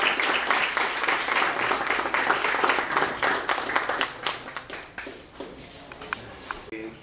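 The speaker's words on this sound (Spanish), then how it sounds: "Así que un aplauso," An audience applauds a folklore group at a New Year's Day parade event in Chepo, Panama, with loud dense clapping that thins into scattered claps, shuffling and footsteps as it fades.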